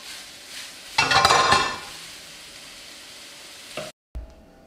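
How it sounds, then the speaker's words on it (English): Kiełbasa sausage sizzling in a pan, a loud burst of frying as it goes in that settles to a quieter steady hiss, then a brief clink of the pan near the end. "The last step is to fry our kiełbasa."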